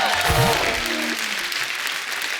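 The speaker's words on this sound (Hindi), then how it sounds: "एक बार जोरदार ताली हो जाए" A studio audience at a comedy talk show bursts into loud applause that fades gradually, with a brief voice at the very start.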